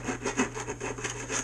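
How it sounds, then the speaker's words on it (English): Hand filing or rasping on the inside of a part for a ZippKits A Box Crackerbox gas-powered RC boat, a steady series of fairly close scraping strokes in an even back-and-forth rhythm, with a low constant hum underneath. "we're gonna file the inside a little bit"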